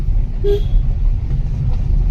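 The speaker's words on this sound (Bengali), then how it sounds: "এসব পাহাড়ি রাস্তা দিয়ে আমাদেরকে এখন যেতে হচ্ছে গাড়িকে হর্ন দিয়ে দিয়ে" A single short car horn toot rings out on a hilly road through Sutan forest, heard close over a steady low rumble of the moving vehicle.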